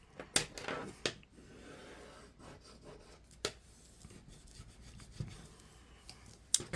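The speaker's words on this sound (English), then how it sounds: "I like to start burnishing from the middle out" Bone folder burnishing paper for a Christmas album craft project, quiet close rubbing strokes with a few sharp taps and scrapes between smoother passes, no talking.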